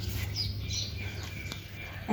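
Caged pigeons and their chicks, heard as faint, scattered chirps and calls over a steady low background hum, brief and fairly close.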